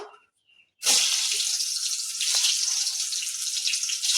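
Chopped pointed gourd tipped into hot oil on medium heat, bursting into a loud, broad sizzle after a quiet moment and holding steady, close and alone.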